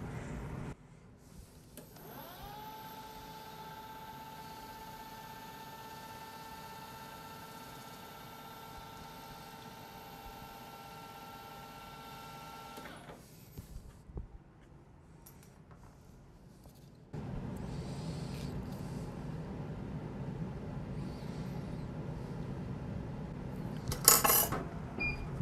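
A milling machine cuts a ball shape on a steel workpiece held in a six-jaw chuck: a steady, whining spindle tone holds for several seconds, stops, then gives way to a louder, rougher cutting noise.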